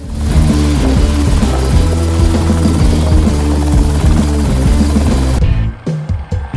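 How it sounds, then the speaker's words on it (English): Loud, steady drone of a battery-powered electric helicopter's rotor and electric tail motor with a pulsing hum, cutting off abruptly near the end. "the first untethered, fully battery-powered flight of a helicopter with an electric tailmotor"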